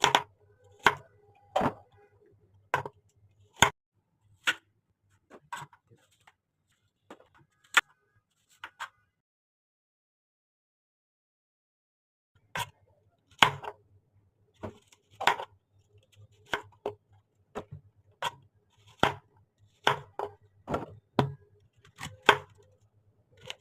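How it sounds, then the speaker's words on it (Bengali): A knife cuts apples on a board in a series of sharp, close chopping knocks in uneven rhythm, with a pause of several seconds in the middle before the cutting resumes. "প্রথমে আপেলগুলো কেটে নিচ্ছি"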